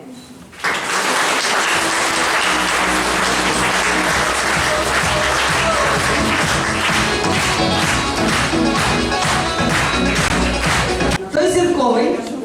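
Sustained, vigorous applause from the audience at a school ceremony honoring lyceum students, thick and continuous from the start, swelling briefly near the end as the clapping shifts.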